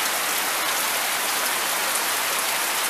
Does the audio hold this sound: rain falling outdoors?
yes